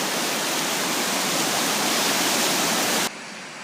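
A river running very high in flood after a storm roars as a loud, dense, continuous rush of water, then drops abruptly to a quieter steady wash near the end.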